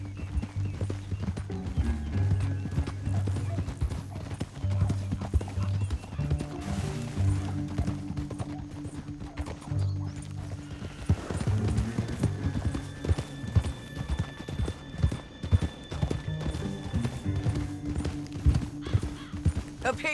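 Horses in Red Dead Redemption 2 trot over ground with a dense, uneven clip-clop of hooves, occasional whinnies, and a low music bed underneath, loud and close throughout.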